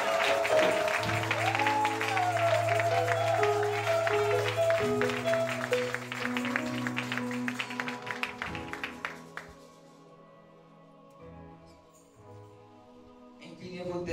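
Congregation clapping and cheering during a French-language church sermon, a broad wash of applause mixed with music and voices that fades toward the end.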